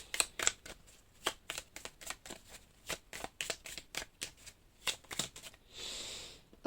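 Tarot cards being shuffled and cut during a reading, a rapid series of crisp riffling bursts and flicks, fairly close, ending in a longer soft sliding rush, with no talk over it.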